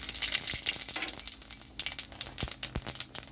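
Cumin seeds crackling in hot mustard oil in a wok, a brief fizzing sizzle with sharp pops, close and fairly quiet with no talking.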